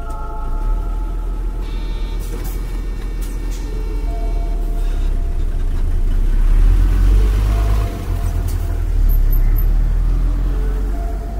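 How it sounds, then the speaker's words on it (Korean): Bus engine idling and rumbling as it pulls to a stop on a snowy country road, a steady loud low drone with a slight swell midway, heard alone without voices. "버스는 눈길을 조금 더 미끄러져 가다가 엔진 소리와 함께 정차했다."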